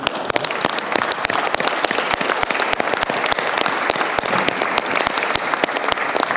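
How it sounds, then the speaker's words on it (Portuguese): Applause from delegates at the closing session of a parliamentary assembly conference, with many sharp, distinct individual claps standing out over a steady wash of clapping, continuous and fairly close. "Bom, vamos aplaudir."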